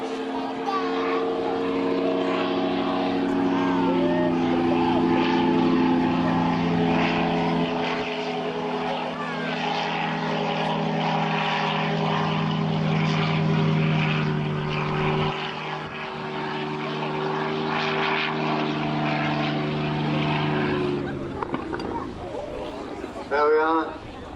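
Yak propeller aircraft flying aerobatics at an air show on a former RAF airfield at Elvington, Yorkshire: a continuous droning engine and propeller roar that shifts in pitch as it manoeuvres, with voices over it.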